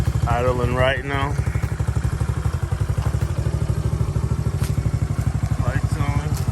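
A four-wheeler engine idles steadily after a carburetor replacement, a fast even putter that runs loud and close the whole time, with a voice talking over it at the start and again near the end.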